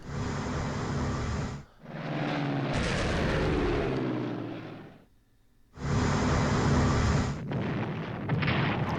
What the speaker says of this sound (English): Here comes an air bombardment.